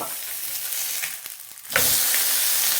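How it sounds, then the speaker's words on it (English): A homemade sausage patty for an Egg McMuffin sizzles in a pan; the steady frying hiss jumps suddenly louder and brighter partway through as the patty is flipped, then stays loud, with no talking. "Let's give this patty one more flip."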